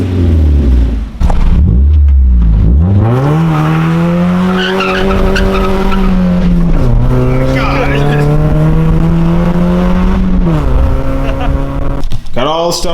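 A car engine at a car meet revs loudly as gas is given, its pitch climbing and then holding in a strong, sustained roar for most of the stretch, with a few brief dips between pushes.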